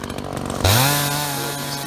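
An Echo CS-330T chainsaw bites into hard maple, rising abruptly from a low idle to a loud, sustained high-pitched cutting whine that holds steady close by.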